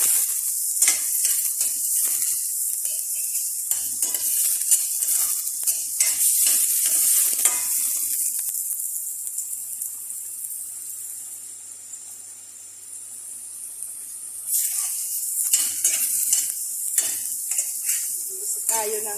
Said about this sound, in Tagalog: Nagigisa ko ng hipon.